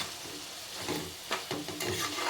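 Amaranth stems simmering down in a pan, with a soft continuous sizzle, stirring scrapes and a few louder clatters toward the end.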